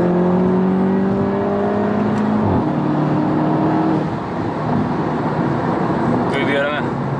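Tuned VW Golf GTI with a JB4 tuner running map 6, engine revving hard as it accelerates through the gears with rising harmonic whine and a shift around the middle, under continuous in-car talk.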